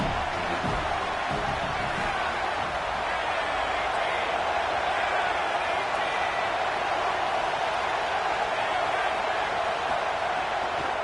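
Football stadium crowd roaring steadily behind the defense on a big third down, a loud, continuous wash of cheering that holds for the whole span with no break.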